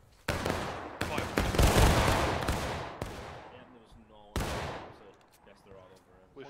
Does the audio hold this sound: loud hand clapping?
no